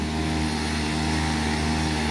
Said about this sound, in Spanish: tienen una motosierra bien rara